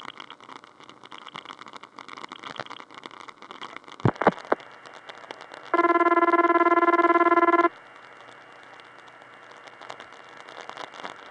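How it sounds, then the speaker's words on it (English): A telephone trunk line from 1976 gives a steady, harmonically rich dial tone for about two seconds, preceded by clicks and a burst of pulses over hissy, crackling line noise. "see how long the dial tone goes on"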